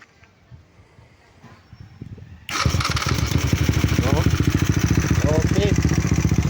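A 257cc Superload motorcycle fitted with a Camtai 500cc-rated electric starter cranks after quiet handling noises and catches abruptly, then runs at a loud, rapid, pulsing idle, with a voice talking faintly underneath.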